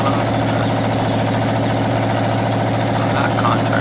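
A tractor engine idles in Farming Simulator 19, a steady low mechanical drone with a regular throbbing pulse, loud and continuous throughout.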